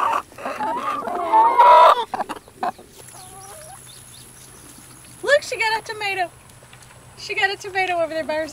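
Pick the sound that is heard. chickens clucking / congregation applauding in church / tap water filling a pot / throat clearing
chickens clucking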